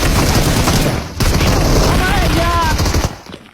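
Rapid, dense bursts of automatic gunfire in a video game fill the whole stretch, loud and continuous, with a brief gap before firing resumes and then trails off.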